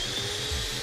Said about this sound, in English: vacuuming on.